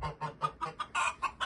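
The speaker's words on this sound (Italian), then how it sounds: "Le oche di mio papà." Geese kept at home honking in a quick series of about eight nasal calls, close and fairly loud, each short burst separated by brief gaps, with no talking.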